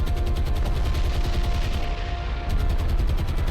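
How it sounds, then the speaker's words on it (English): Gunfire and bomb blasts from a Hurricane aircraft bombing run in the naval video game War on the Sea, a dense, continuous roar of rapid shots and booms with a short dip near the end, with no talking. "Okay, we are coming in for the bombing run"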